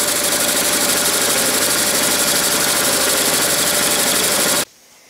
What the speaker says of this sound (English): turn the compressor off. It was so loud.